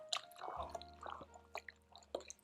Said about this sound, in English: So now we're just going to stir that up really good.